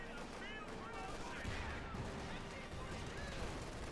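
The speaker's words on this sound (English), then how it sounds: "Bazooka firing the Jackson." Bazooka fire in Company of Heroes 2, a Wehrmacht versus US Forces match where a Jackson tank destroyer is hit, with shots and explosions mixed into continuous battle noise under a commentator's voice.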